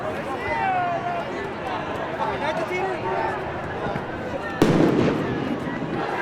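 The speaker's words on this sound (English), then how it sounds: "They're firing flashbangs over there." A single sharp, loud flashbang blast from police cuts through the murmur of a street protest crowd, with voices and shuffling continuing around it.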